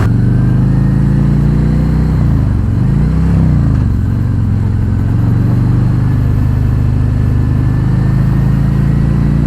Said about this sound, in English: it sounds like I would imagine a Harley is supposed to sound